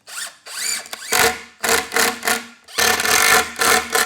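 Drill driving screws into good-quality plywood without pre-drilling, several loud whirring bursts of varying length separated by short pauses, close up, with no talk.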